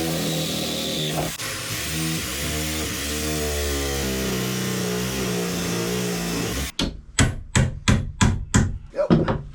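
A power saw cuts steadily into the wooden frame of an old boat to sever a 1/2-inch steel rivet rod, a loud continuous droning whine that cuts off into several sharp, evenly spaced knocks and hits.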